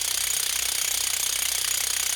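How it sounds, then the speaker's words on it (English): A core drill bores through a beveled concrete curb, its steady, loud, rattling grind running continuously and close up with no break or talk. "pretty soon you just about got it through and to where the entire drill bit is going into the curb"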